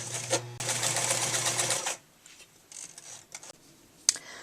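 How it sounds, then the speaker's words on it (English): A sewing machine stitches two fabric diamonds together along one edge, a loud steady mechanical whir for about two seconds, then stopping, followed by faint handling clicks and rustles. "then you're just going to sew along one edge of the diamond"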